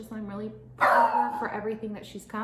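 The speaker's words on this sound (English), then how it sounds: "And that's my dog, because Amazon is here." A dog barking indoors as a delivery arrives, a short loud burst of barks close by, overlapping a woman's speech.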